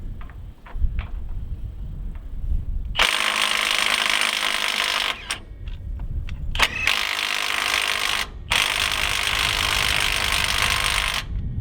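A Milwaukee M18 FUEL mid-torque impact wrench on a CP3 battery hammers at a big bolt rated at 500 foot-pounds, delivering loud, close, sustained rattling bursts broken by brief pauses, over a faint ticking background.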